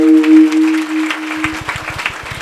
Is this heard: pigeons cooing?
no